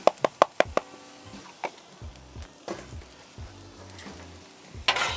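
Chopped garlic tossed into rice frying on a Blackstone griddle: a quick run of sharp spatula knocks on the flat-top, then intermittent clanks and scraping under a low sizzle, ending in a louder burst of hiss.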